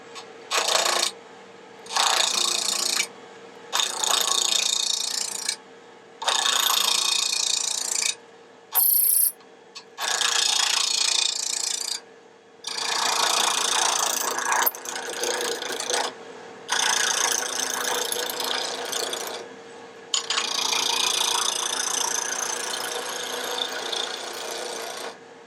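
Roughing gouge cutting a spinning wooden pen blank on a wood lathe, loud rasping bursts of several seconds each, split by short quiet pauses, close by.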